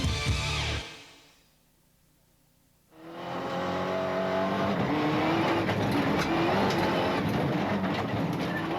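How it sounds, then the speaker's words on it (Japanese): A 1995 Subaru Impreza 555 WRC rally car: a loud burst of engine noise cuts off to near silence, then a sustained rising engine roar with shifting revs returns and holds steady, close and unaccompanied by voices. "アグレッシブなラリーシーンで見られるドリフトやカウンターの数々。"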